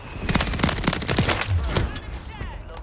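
Rapid bursts of gunfire from a multiplayer shooter video game, with quick repeated shots and some heavier blasts, loud and close, with excited players talking over the action.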